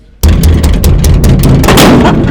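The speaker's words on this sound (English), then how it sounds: "Why are you banging?" Loud, rapid banging on a gate, a string of sharp, heavy blows that starts abruptly and keeps up steadily, close and harsh, with no voices.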